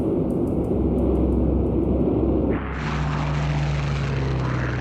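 Spitfire fighters dive to attack Heinkel bombers, a loud roaring aircraft engine drone that shifts abruptly into a higher-pitched, more intense whine partway through, close and continuous.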